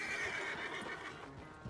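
A horse in Red Dead Redemption 2 whinnies and snorts close by, a drawn-out neigh followed by breathy snorts with faint hoof clops, quiet overall.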